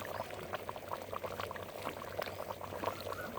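Goat curry bubbling at a steady simmer in a covered pot, with a dense, continuous crackle of small bursting bubbles heard close up and fairly quiet, with no talk.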